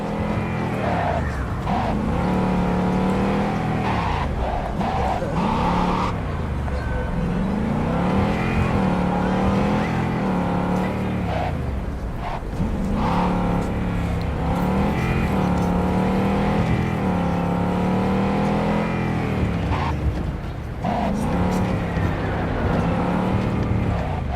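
A car engine runs and drives in the video game Cyberpunk 2077, a steady, loud motor drone with rising and falling revs that continues throughout.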